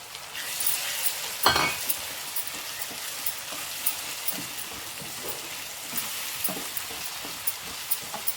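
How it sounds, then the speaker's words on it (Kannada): Onion paste sizzles in a pan for an egg and green peas curry, a steady soft frying hiss with occasional clinks and scrapes of a spoon stirring, no voices. "ಈಗ ಆನಿಯನ್ ಪೇಸ್ಟ್ ಹಾಕೊಳ್ಳೋಣ"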